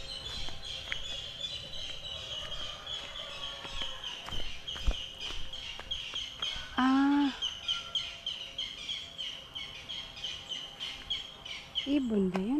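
Birds call and chirp around a garden plot, with a steady high chirring chorus throughout, sporadic tweets, and two short honking calls that may be a duck; a voice speaks briefly near the end.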